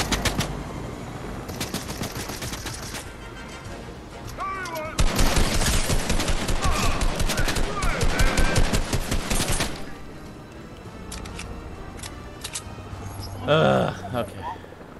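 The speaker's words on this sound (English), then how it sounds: "Who's shooting at me?" Video game gunfire crackles in rapid bursts and sustained automatic volleys, loudest in the middle stretch, with people talking over and between the shots.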